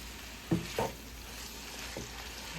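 Garlic and red onion fry in a pan with a steady, moderate sizzle, broken by a few brief knocks of stirring near the start and once more later.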